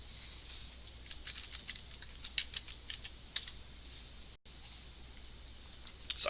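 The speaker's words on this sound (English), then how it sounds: "So I type in an H." Soft typing on a computer keyboard during a server-side scripting lecture: a steady patter of light, quick key clicks over a faint hum, with a brief dropout midway and a few sharper taps at the end.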